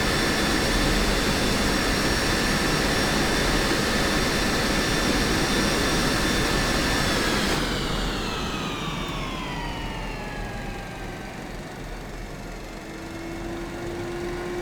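An F-16 jet engine runs in a flight simulator game with a loud, steady roar and high whining tones that drop in pitch partway through as the engine spools down to a lower idle.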